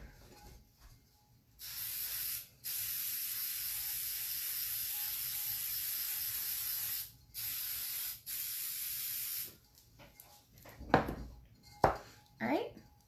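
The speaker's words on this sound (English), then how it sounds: "now we're going to spray the bottom as well" An aerosol spray can hisses onto the bottom of a tumbler in two long close bursts separated by a brief gap. Clattering handling knocks follow near the end.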